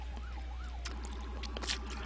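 A police car siren in the video game ArmA III wails in rising and falling sweeps, faint and distant over a constant low hum, with brief scattered clicks and noises.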